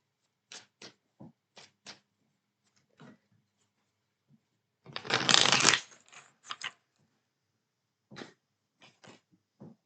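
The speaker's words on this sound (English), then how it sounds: "we're going to go ahead and pull your oracle cards" Oracle cards being handled and shuffled: scattered soft taps and flicks, then one dense riffling burst in the middle, followed by more light card sounds, close and quiet with no speech.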